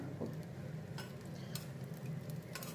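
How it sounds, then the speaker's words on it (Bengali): Roasted vermicelli stirred in ghee, a faint sizzle under quiet spoon scrapes and light taps, close but soft. "আমি একটুখানি ঘি দিয়ে নাড়াচাড়া করে নিয়েছি যাতে খেতে সুস্বাদু হয়"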